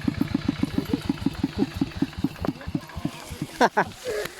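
An engine idling with an even, rapid low chugging that fades toward the end, as if switched off, with people talking over it in a farm setting.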